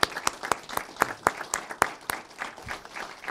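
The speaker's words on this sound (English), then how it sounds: "Let's give a round of applause for our police officers." Scattered applause at a Moreno Valley city council meeting honoring police officers during National Police Week: a small group of clappers, with sharp individual claps landing in a quick, uneven rhythm and gradually thinning out.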